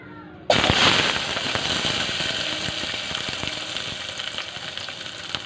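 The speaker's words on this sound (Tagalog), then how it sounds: "At magigisa naman tayo ng sibuyas saka kamatis." Onions and tomatoes for pork sinigang hit a hot pan with a sudden loud sizzle, then fry in a steady, dense crackling hiss that slowly eases off.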